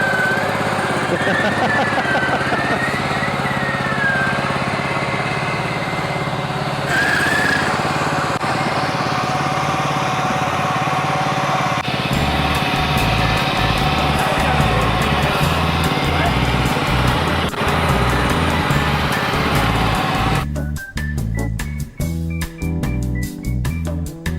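An old lawn mower engine runs steadily and loud, being used to tow a boat in a junkyard jetboat project, its drone continuous throughout with a rougher, pulsing stretch in the second half and brief voices nearby.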